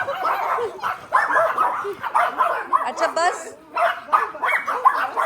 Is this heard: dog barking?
yes